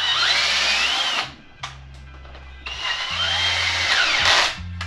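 A power drill runs at a low torque setting while driving a thread tap into a 3SGE BEAMS engine part. The motor whines steadily in two long bursts with a short stop and restart between them, close and loud.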